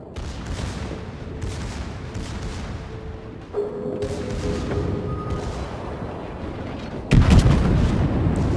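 The secondary guns of the battleship Großer Kurfürst fire in World of Warships as a rumbling barrage with dull booms, and a heavier blast lands near the end over a constant low battle roar.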